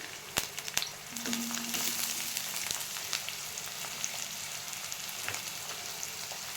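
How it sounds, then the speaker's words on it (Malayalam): Garlic, onion, tomato, dried chillies and ginger sautéing together in a pan, with a moderate, steady sizzle and a few sharp spatula taps near the start. "കുറച്ച് വെളുത്തുള്ളി, ഒരു സവാള, ഒരു തക്കാളി, 2 വറ്റൽമുളക്, ഒരു കഷ്ണം ഇഞ്ചി, ഇതെല്ലാം കൂടി ചേർത്ത് നന്നായി ഒന്ന് വഴറ്റിയെടുക്കണം"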